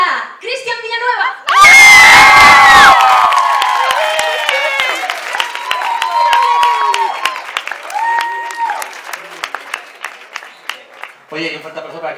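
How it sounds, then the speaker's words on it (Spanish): A concert crowd bursts into loud cheering, whoops and applause that gradually fade into scattered clapping and shouts, with a voice speaking over the audience at the start and end. "Fuerte aplauso, por favor."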